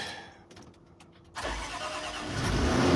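Quiet ticking and clicks, then the engine of a 2016 Land Rover LR4 cranks and catches, settling into a steady running hum that grows slightly louder as it revs.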